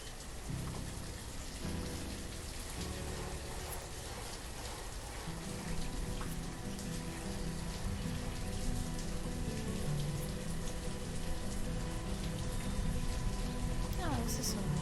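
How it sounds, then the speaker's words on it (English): Rain falls steadily in the city-building game Banished, a continuous moderate patter of raindrops on surfaces that holds evenly and swells slightly toward the end. "Oh, and it is raining."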